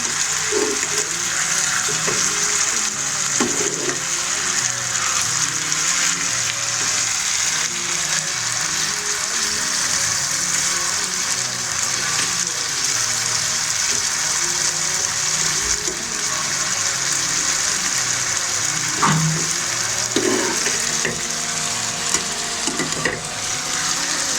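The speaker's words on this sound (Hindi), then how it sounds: "अच्छी तरह हमें आलू को फ्राई होने देना।" Potato cubes fry in a pan for a cheese omelette, giving a steady hiss and sizzle throughout. Occasional soft scrapes and taps sound as the food is stirred.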